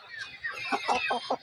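A white pet turkey about to be slaughtered for a birthday feast gobbles in a series of short, clucking bursts, close and fairly loud with no talk.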